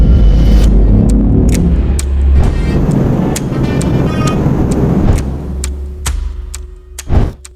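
Road traffic rumbles loudly and close by, with a deep engine drone and scattered sharp clicks and knocks. A brief louder burst of noise comes near the end before it fades.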